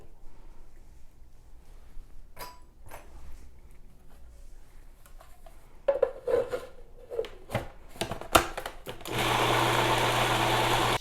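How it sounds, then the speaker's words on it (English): A blender whirs at full speed through black bean brownie batter in the last couple of seconds, preceded by clatters and scraping of the jar and lid. "She says to blend until completely smooth and to blend really well."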